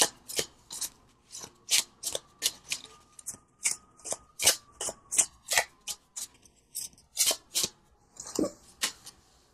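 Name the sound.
shuffling and pulling tarot cards from a deck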